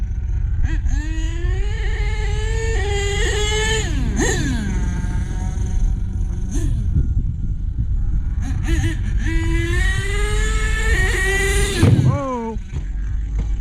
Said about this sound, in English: You can't have a monster truck and not send it.